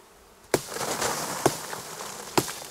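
A honeybee swarm packed in a box hums with a loud, steady buzzing, broken by three sharp knocks on the box spaced about a second apart, each followed by a swell in the droning.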